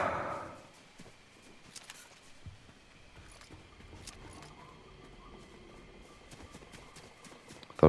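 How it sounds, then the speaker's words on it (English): Footsteps in the video game Fortnite sound as soft, scattered clip-clop taps over a low ambient background, quiet and fairly distant, with a loud burst at the very end. "Thought I heard some footsteps too"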